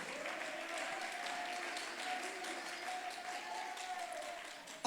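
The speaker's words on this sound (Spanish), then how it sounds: "Denle ese aplauso al Señor" Congregation applauding during a church sermon, soft and fairly distant clapping held at an even level, with a sustained tone beneath it.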